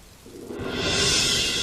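Steady rain swells from quiet into a dense, broad hiss at night, a close, continuous downpour with no voices over it.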